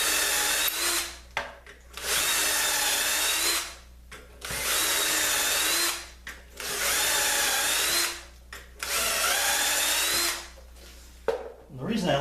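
A power drill drives into wood while a pub table stool is being assembled, with four long loud bursts of whirring separated by brief pauses, plus a short burst near the end.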